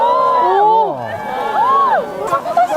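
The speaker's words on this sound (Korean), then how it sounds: "알아들을 수 없는 함성만이 가득합니다" People shout and whoop excitedly outdoors as the aurora appears, with rising and falling voices calling out close by in short bursts.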